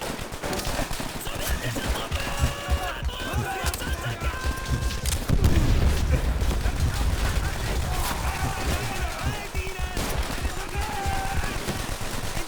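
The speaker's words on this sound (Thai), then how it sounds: "เฮ้ย ระเบิดใครวะ" Explosions and gunfire in the World War II shooter Call of Duty: World at War, with bursts of weapon fire, a heavy boom near the middle and excited voices talking over the combat.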